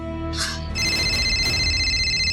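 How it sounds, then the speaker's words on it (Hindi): A phone rings with an incoming call in an indoor domestic scene, steady electronic ringtone tones sounding continuously after a brief chirp, fairly loud and alone without talk. "फिर से फोन आ रहा है।"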